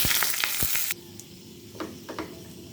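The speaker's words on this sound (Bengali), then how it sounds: "কড়াইতে তেল আমি বসিয়ে দিয়েছি। এবার আমি ফোড়নে দেব অল্প জিরে, তেজপাতা, এলাচ, দারচিনি দিয়ে ফোড়ন দিয়ে দিচ্ছি।" Whole cumin, bay leaf, cardamom and cinnamon crackle in hot oil in a wok: an intense sizzle at first that suddenly drops to a quieter hiss with a few soft taps.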